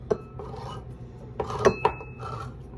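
Scraping and rasping metallic sounds with a few sharp clicks, close and fairly quiet, as a can opener works around the lid of a can of corn.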